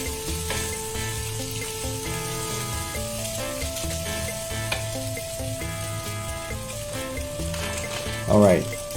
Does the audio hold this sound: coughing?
no